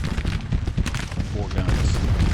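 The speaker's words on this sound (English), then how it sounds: "have our 3-inch ordnance rifles firing" Three-inch ordnance rifles fire in Grand Tactician, a Civil War strategy game: a short burst of overlapping booms and crackling volleys, dense and loud, with a voice talking over part of it.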